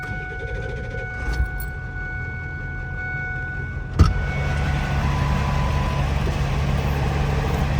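A used vehicle starting up and running on the road after refuelling: steady low engine drone and road rumble throughout, with a sharp knock or thump midway, then a slightly fuller running tone, moderately quiet and close.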